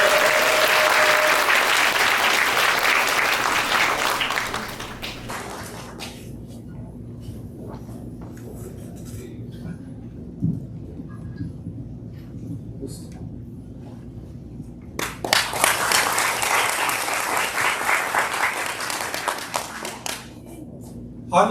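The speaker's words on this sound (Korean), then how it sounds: "박수로 맞아주십시오." Audience applause greets a speaker at a Korean peace rally held on the armistice anniversary, a loud sustained round that fades out, leaving a quiet stretch with faint voices, then a second burst of clapping.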